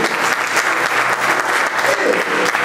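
A church congregation claps loudly in praise of God, a dense, continuous applause close by with scattered voices mixed in throughout.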